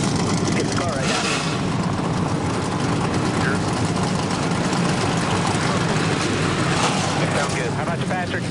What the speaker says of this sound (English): Well, the engines have fired.